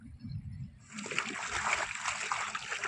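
Sacks and tarps are sloshed and splashed in water by hand outdoors, a close, continuous watery splattering that starts after a moment of low murmuring voices and rumble, with faint talk underneath.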